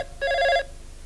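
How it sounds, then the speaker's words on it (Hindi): An old telephone bell rings once, a short bright electric trill lasting about half a second, on a newly connected landline in a comedy sketch about the telephone department. "मुबारक हो, पहली टेलीफोन कॉल आ भी गई, उठाइए"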